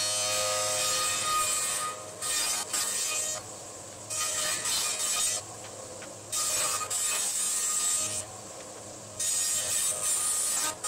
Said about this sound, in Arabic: نقوم بعملية حفر له حتى يدخل في ذلك التجويف